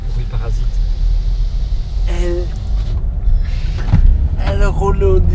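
Power window of a 2021 Volkswagen Caddy with a 2-litre diesel engine closing inside the cabin, a brief motor whine over steady engine rumble, with people talking in the car.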